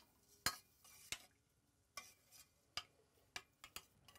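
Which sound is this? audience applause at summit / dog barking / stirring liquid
stirring liquid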